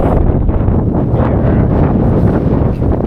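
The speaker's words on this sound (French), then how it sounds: "aujourd'hui, il y a beaucoup de vent, hein, donc je ne sais pas si vous m'entendrez bien" Strong outdoor wind buffets the microphone in a constant, loud low rumble with gusting fluctuations throughout, near a very old tree on a path.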